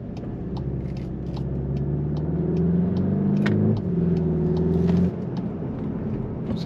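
A 300 hp Volkswagen T-Roc accelerating hard, its engine note climbing steadily in pitch with a brief shift near the middle, then easing off toward the end; close, strong and uninterrupted by talk.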